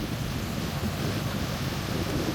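Small, gentle waves wash onto a sandy beach at a resort in Lingayen, Pangasinan, a soft continuous surf hiss mixed with light wind noise, with no voices.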